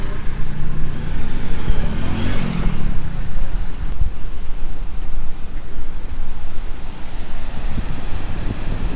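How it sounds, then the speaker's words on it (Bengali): Fast-flowing river water rushing past a hillside, heard up close as a loud, continuous broadband roar without a break, with no one speaking. "পানির যা আওয়াজটা শুনে বুঝতে পারবা কত গতিতে পানিটা যাচ্ছে"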